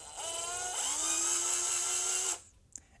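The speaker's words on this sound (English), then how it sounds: "And power on the drill." A handheld power drill winds wire around a rod to form chainmail links, giving a loud, steady whine that ramps up in pitch, holds for about two seconds, then stops and is followed by a faint clink.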